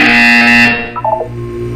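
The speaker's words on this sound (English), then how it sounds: "You will hear a buzzer." A loud electronic buzzer from the Portal 2 video game sounds for about 0.7 seconds, then cuts off and leaves a few softer fading tonal blips over a steady low hum.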